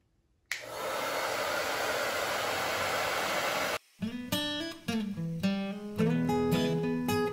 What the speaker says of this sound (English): we're gonna turn the blow dryer on to high heat